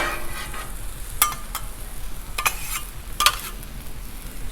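Chorizo and eggs frying on a Blackstone griddle give a steady sizzle, with a few sharp spatula scrapes and chops breaking through at intervals.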